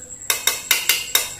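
Metal cutlery clinks against a zinc plate in five quick, bright, ringing taps at a steady rhythm, close and clear, with no talking.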